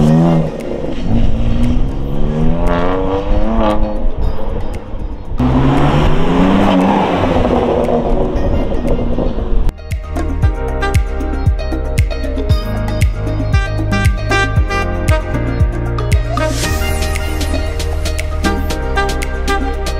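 A BMW M2 Competition with a Remus exhaust revs hard and repeatedly, loud and close, with throaty exhaust rasp and stepped rises in pitch like shifting through gears.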